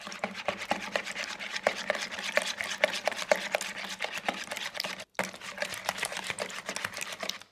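Eggs and cream cheese being whisked together in a bowl for a keto ricotta sausage breakfast casserole, a steady rapid clatter of utensil against bowl that goes on without pause except for one brief break.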